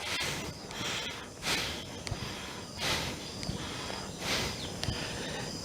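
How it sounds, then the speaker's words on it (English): Deep breathing, snort-like inhales and exhales in a slow repeating rhythm, roughly every one and a half seconds, close and fairly loud during a standing exercise that swings the arms and bounces on the toes, with soft thumps between breaths. "We keep alternating as we swing our arms with deep breaths"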